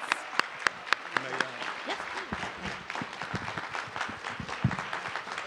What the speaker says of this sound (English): let's give a final round of applause for all of our graduates